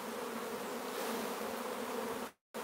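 Nurse honeybees crowd a hive frame during queen cell building, giving a close, steady buzzing hum that runs evenly and then cuts off abruptly near the end.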